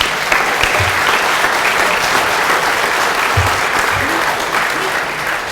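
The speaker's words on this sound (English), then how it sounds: "let's give a big round of applause for everyone here tonight" A crowd at a Chamber of Commerce annual meeting in Fort Kent applauds for everyone present, dense sustained clapping that stays loud and even for several seconds.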